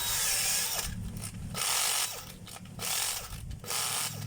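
A washing machine unit with its drum and transmission runs under test, its motor whirring in bursts with ratcheting, clicking mechanical pauses between spins, close and loud.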